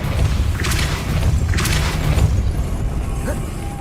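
The Depulso spell is cast in the Hogwarts Legacy video game: two quick airy whooshing bursts land over a heavy, rumbling low boom, then the sound settles into a fading mechanical hum.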